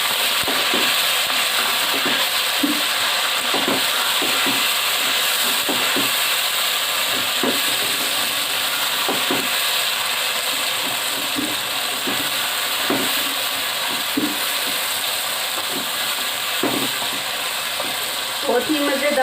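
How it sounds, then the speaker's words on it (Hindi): Chopped tomato paste hits meat frying in a pan, setting off a steady loud sizzle and hiss with occasional stirring scrapes throughout. "अब यहाँ पे मैं डालूंगी 2 अदद टमाटरों को मैंने चॉपर में चॉप करके पेस्ट बना लिया है। ये पेस्ट डाल देते हैं।"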